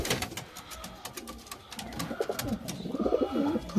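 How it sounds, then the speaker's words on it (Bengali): Green Giribaz pigeons coo softly in a short run of low, rolling calls, close by and fairly quiet, with a few faint taps and rustles around them. "এটা আমার খুব পছন্দের পায়রা একটা"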